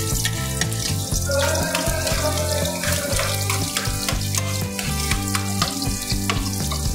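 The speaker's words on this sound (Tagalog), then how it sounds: "Yan, dahil mainit na, lagyan natin yung bawang natin" Chopped garlic sizzles loudly and steadily as it drops into hot cooking oil in a pan, with light clinks of a utensil stirring through it.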